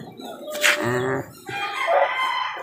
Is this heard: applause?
no